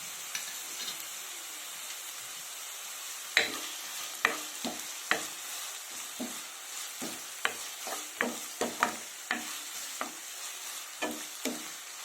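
Green chillies and onions fry in a pan for potato pea curry, with a steady soft sizzle broken by frequent sharp clicks and scrapes of a spoon stirring.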